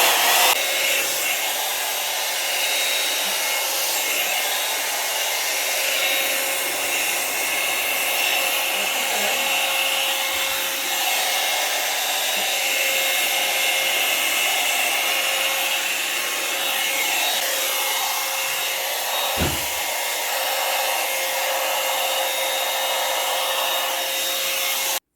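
Hot-air hair styling tool set to its lowest heat blows a steady, loud whooshing stream of air with no break, with faint rubbing against hair and a soft knock near the end.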